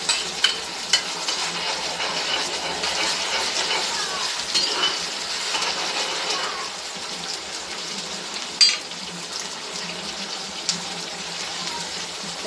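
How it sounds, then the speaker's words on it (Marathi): Onion puree sizzling and frying in a hot pan for a chicken tava fry, a steady bright hiss with occasional stirring scrapes and small pops. "तर आपण आता ही प्युरी टाकूयात कांद्याची."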